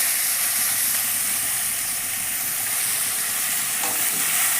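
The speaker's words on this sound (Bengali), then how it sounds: "পেঁয়াজটাকে আমাকে লাল লাল করে ভেজে নিতে হবে।" Chopped onion frying in oil in a pan, a steady broadband sizzle and hiss that holds evenly throughout, with faint stirring scrapes and no talking.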